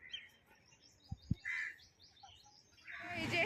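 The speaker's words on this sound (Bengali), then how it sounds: "আর বাইরে থেকে সব পাখিগুলো এসছে," Birds in a park chirp and tweet in short, faint bursts against a quiet background, with a couple of sharp low knocks early on and a louder chirping flurry at the end.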